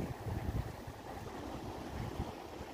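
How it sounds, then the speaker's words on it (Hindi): Cold wind blows steadily through Harsil valley in Uttarakhand, a broad, continuous rush with low gusty buffeting against the microphone and no voices. "ये देख रहे हैं इतना ठंडी हवा चलता है।"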